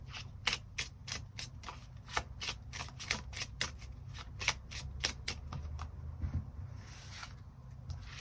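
Tarot cards shuffled and drawn by hand, a steady run of quick crisp riffling flicks and card snaps, close and fairly quiet over a low background hum with no talking.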